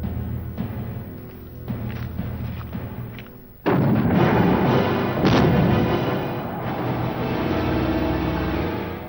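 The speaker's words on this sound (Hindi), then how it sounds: "गोलाबारी बंद कर दी जाए।" Artillery shelling rumbles in a period TV drama about a fort siege, a dull distant thudding at first, then a sudden heavy barrage bursts in loud and sustained with booming impacts layered over each other.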